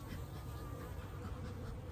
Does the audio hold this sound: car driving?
no